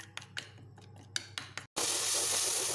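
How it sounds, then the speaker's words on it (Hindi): Yogurt being stirred into a masala paste, with a few soft spoon clinks and scrapes against the vessel, then a sudden loud steady hiss that takes over near the end. "देखिए अब दही डालने के बाद हमको इसको इस तरीके से अच्छे से मिक्स करना"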